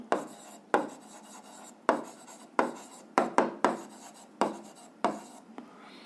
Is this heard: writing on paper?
yes